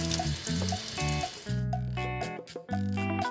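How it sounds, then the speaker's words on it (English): Running water splashes from a kitchen tap as hands are rinsed during cooking, a steady close rush of water over a faint tonal background, with no talking. "Let me rinse my hands"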